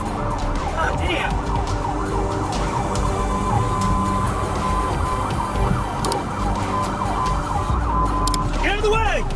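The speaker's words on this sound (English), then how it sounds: "The sirens were loud" Wailing police sirens sweep up and down amid engine rumble and busy traffic noise during a high-speed police chase, loud and continuous, with voices shouting underneath.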